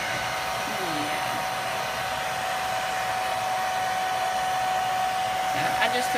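Steady, close whir of a hair dryer drying a hedgehog after a bath, running continuously with no pauses.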